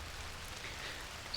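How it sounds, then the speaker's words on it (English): Rain falls in a garden at a Transylvanian house, a soft, even hiss of drops that is fairly faint and steady throughout the brief moment, with no voices. "The rain's starting to get quite heavy."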